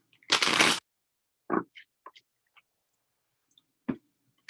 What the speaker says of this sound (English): I'm going to do one more shuffle. I like to shuffle.